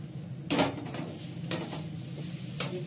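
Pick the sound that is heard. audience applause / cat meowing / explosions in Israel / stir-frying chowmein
stir-frying chowmein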